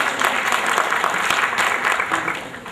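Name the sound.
audience applause at award ceremony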